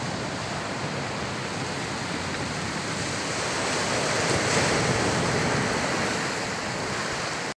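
Ocean surf rolling onto the beach at Granja, Portugal, a continuous broad wash of breaking waves that swells gently in the middle, heard alone without voices.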